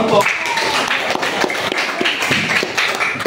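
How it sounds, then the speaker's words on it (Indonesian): A classroom group claps in an uneven, spread-out patter of hand strikes close by, with voices mixed in among the claps. "tepuk tangan untuk kita semua"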